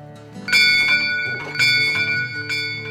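A small model church bell rings twice up close, with bright metallic strikes whose tones linger and fade between hits.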